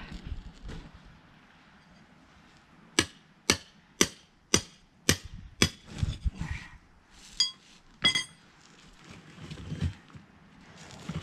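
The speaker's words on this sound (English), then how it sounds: "If you do a cut, you know you're pretty much going to get the chisel to go where you want it to go" Hammer striking a chisel to split sandstone while extracting dinosaur footprints: a run of about eight sharp, ringing metallic blows in a steady rhythm, followed by scattered lighter knocks and scraping, close and loud, with no talking.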